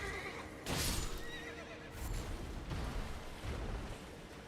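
Horses whinny and neigh from enemy riders in Elden Ring, a loud burst near the start followed by further neighing and clattering game noise amid battle sounds.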